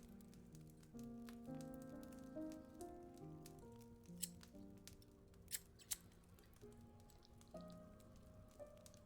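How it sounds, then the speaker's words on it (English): Scissors being handled and snipping during a close-miked binaural ASMR session, with faint, crisp snips and a few sharper clicks over soft, steady background tones. "Are my scissors in here?"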